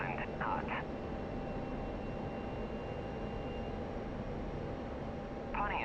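A jet engine drones steadily in a DCS flight simulator cockpit as the aircraft flies on autopilot, a constant broad roar throughout, with short radio voice transmissions at the start and end.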